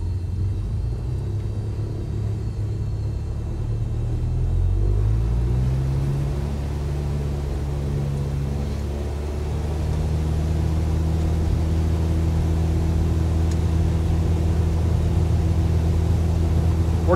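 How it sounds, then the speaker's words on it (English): A small single-engine airplane's piston engine roars up to takeoff power during a crosswind takeoff roll departing San Luis Obispo, a loud, close, steady drone whose pitch rises over the first few seconds and then holds, with no voices. "Little crosswind takeoff"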